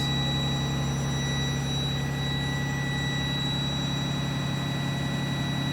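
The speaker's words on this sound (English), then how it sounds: "I'm going to idle it around 1500 RPMs" A truck engine idles steadily at around 1500 RPM, a constant low rumble with a strong tonal hum and high whine throughout, close and unbroken, with no one talking.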